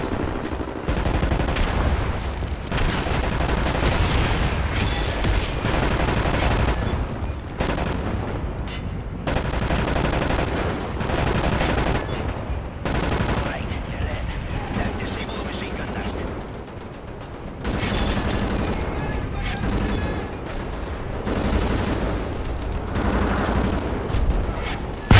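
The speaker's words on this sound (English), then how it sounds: "Right, lads, you ready to lay down suppressor fire?" Dense bursts of suppressing gunfire in the shooter game Wolfenstein: The New Order: rapid machine-gun rattles and heavy booming shots crowd together continuously, loud and close, with brief lulls between volleys.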